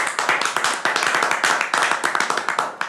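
An audience claps in rhythmic bursts to welcome a guest on a comedy talk show, sharp close handclaps pulsing repeatedly throughout with brief dips between waves.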